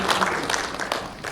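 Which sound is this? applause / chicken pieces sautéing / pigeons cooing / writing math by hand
applause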